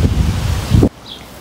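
Fierce wind blowing across a flower garden, a dense rumbling buffet that roars loudly for under a second and then cuts off abruptly to near quiet.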